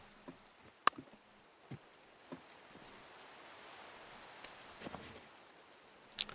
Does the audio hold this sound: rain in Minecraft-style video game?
yes